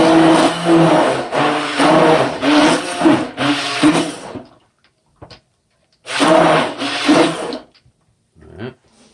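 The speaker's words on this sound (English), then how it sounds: "I want to hit it up a little with my hand blender." A hand blender whirs loudly in bursts, breaking up mustard chunks in a liquid, cutting out briefly between pulses, with a pause and a few clicks before running again.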